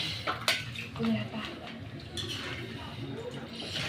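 Dishes and utensils being washed in a household setting, with clinks of pots and cutlery, a couple of sharp knocks near the start, then steady scrubbing and water noise under intermittent talk.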